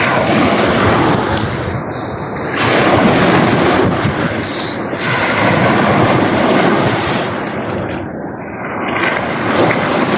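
Heavy surf pounds and roars continuously at a beach in Mabini, Batangas, loud and close, with gusty wind buffeting the microphone and swells rising and falling.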